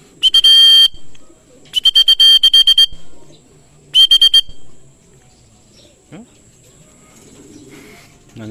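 Three bursts of sharp, repeated whistle-like calls ring out to summon club racing pigeons down from a rooftop, followed by quieter ambient noise and faint bird sounds.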